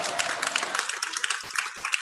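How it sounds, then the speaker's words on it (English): Spectators at an annual school sports meet clap briefly in a dense, crackling burst of applause. "Please give a thunderous round of applause again for all of them."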